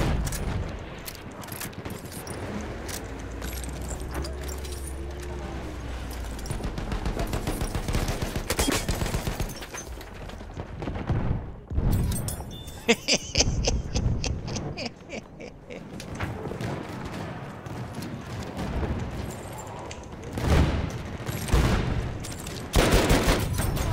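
Battlefield 1 combat with sustained machine-gun fusillades and scattered single shots, loud and close, mixed with booms and mechanical clatter amid a chaotic battlefield.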